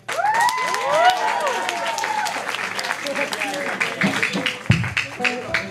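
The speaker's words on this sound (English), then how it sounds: "I wanted to give a round of applause to all the other acts before us." A school talent show audience breaks into applause and cheering in an indoor hall, with dense clapping and a few whoops running steadily throughout, fairly close and loud.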